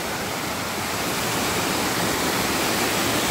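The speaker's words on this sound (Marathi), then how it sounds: "पाण्याचा प्रवाह बघा कसा किती फास्ट चालला आहे इकडून" A fast-flowing village stream in rural Konkan where people wash clothes, rushing water forming a loud, dense, steady roar close by with no break and no voices.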